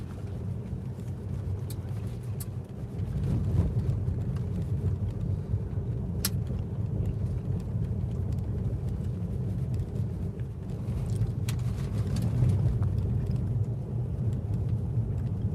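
A car drives along the Las Vegas Strip, its steady low engine and road rumble holding evenly throughout with slight swells, close and continuous, with no talking.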